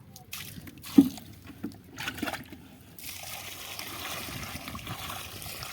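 Water is poured and splashed for washing, with sloshing and trickling that comes in short bursts and then settles into a steady, faint stream, with a voice talking over it.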